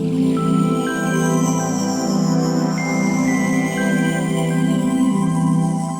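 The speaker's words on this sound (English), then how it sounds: "you hear that delay, that really big delay on that piano and that last note" Sustained electric piano chord washing out in a long, layered delay, echoes overlapping into a steady shimmering drone, in an atmospheric drum and bass layer.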